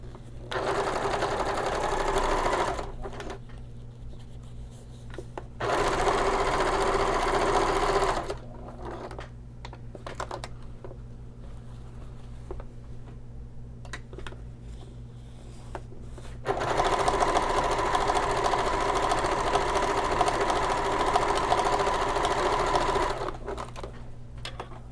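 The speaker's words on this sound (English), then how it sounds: "I'm going to open up this seam and top stitch" Sewing machine topstitching a seam on a vinyl shoulder bag, its steady motor whir and needle clatter running loud in long bursts, with brief pauses between runs of stitching.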